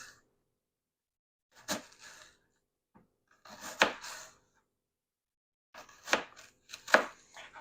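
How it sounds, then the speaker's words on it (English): A knife cuts thin slices from an onion half on a board for bread-and-butter pickles, making a few separate crisp, sharp cuts in small clusters with quiet gaps between them, close and alone. "cut your onion, cut it in half, and you just want to cut it in thin"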